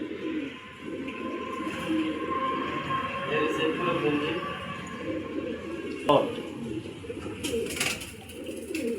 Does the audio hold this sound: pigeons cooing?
yes